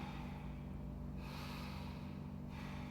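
Slow breathing in a seated forward fold during a vinyasa yoga class, faint airy exhales over a steady low hum, two soft breaths in a row.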